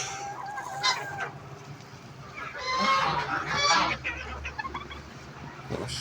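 A flock of geese for sale honk at close to middle distance, with repeated nasal calls in loose overlapping bursts, loudest around the middle, over faint outdoor background noise.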